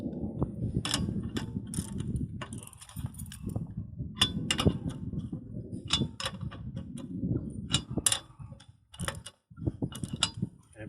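Ratchet wrench working lug nuts on the rear wheel of a 2009 Toyota Yaris during a hub bearing repair, a steady run of close clicking and metallic clacks with some dull knocks in between.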